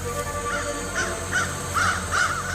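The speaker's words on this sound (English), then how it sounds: "save the crows cawing in the trees above" Crows caw from the trees overhead in quiet woods, a run of harsh, rasping calls that come in quick pairs and clusters, fairly close, over a soft steady background hum.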